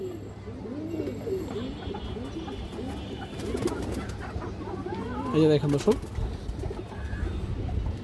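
A female pigeon, a lively hen with purple legs and black markings, coos near at hand in a loft among other birds, someone talking over the soft repeated calls.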